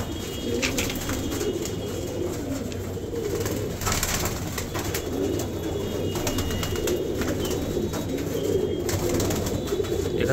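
A flock of about 70 Gardaan pigeons with clipped wings, let out of their coop, coo in a steady, close chorus, with a few brief wing flutters and no voices.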